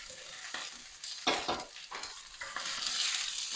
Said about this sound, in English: You can smell the lovely garlic sauteing with the vegetables.